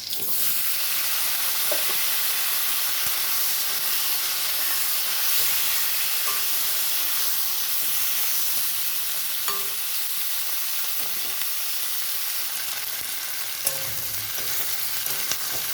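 Capsicum and onion fry in a pan with chilli and garlic, a dense, even sizzle that holds steady throughout, with a few faint clinks of a stirring utensil.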